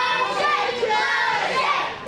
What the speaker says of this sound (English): you hear the crowd, the kids, really